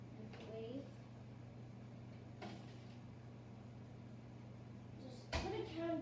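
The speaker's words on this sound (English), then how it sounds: "Microwave." A microwave oven hums steadily in a kitchen while heating marshmallows, its low drone running throughout, with a couple of brief clicks and knocks and a sharper clatter near the end.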